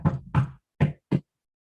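Knocks on a palace door: two quick raps, a short pause, then two more spaced raps, close and sharp, followed by silence.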